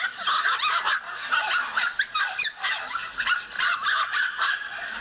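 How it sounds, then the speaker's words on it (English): Many dogs at a crowded puppy mill bark and yip continuously in an overlapping chorus, loud and close, with no talking. "It's really unbelievable how many dogs there are here."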